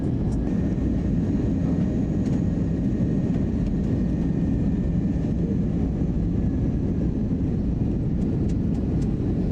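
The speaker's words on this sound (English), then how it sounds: "We have wheels down. I hear them." Airliner cabin during the approach into Oslo with the landing gear down, heard as a steady, loud low roar of engine and airflow rumble, with no speech.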